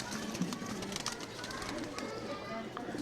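Giribaz pigeons coo softly in the background, low murmuring calls mixed with rustling and faint clicks, fairly quiet throughout.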